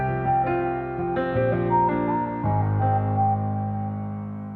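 A plain synth lead melody rings over piano chords in FL Studio, sustained notes shifting every second or so, with no added effects.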